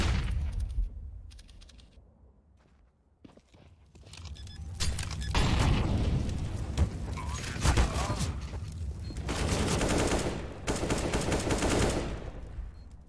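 Gunfire in Counter-Strike on the Dust2 map, long A: rapid bursts of automatic rifle shots crackle in clustered volleys, loud and dense after a quieter start, with excited commentary talk over parts of the action.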